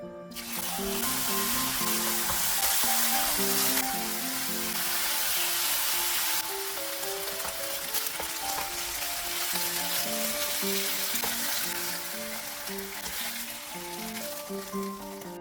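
Marinated pork neck sizzles continuously in a hot frying pan, a steady crackling hiss with soft music playing in the background.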